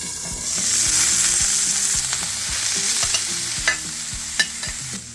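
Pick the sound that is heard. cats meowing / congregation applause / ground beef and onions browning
ground beef and onions browning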